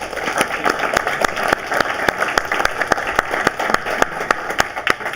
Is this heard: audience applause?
yes